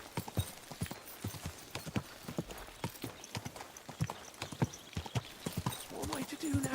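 A cheap old horse in Kingdom Come: Deliverance II clip-clops along at a steady walking rhythm, each hoof strike crisp and close, with voices speaking over the hoofbeats at times.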